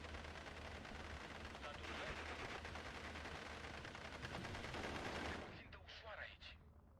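Sustained battlefield gunfire from the Steel Division 2 wargame crackles densely for several seconds, with rifle shots and distant explosions, then thins to a few isolated shots; a voice talks faintly over it.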